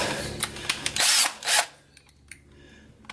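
A power drill drives a screw into a gloss black OLM S208 front lip on a 2018 Subaru WRX/STI bumper. There are a few short whirring bursts, one longer run, then quiet clicks and light handling noises.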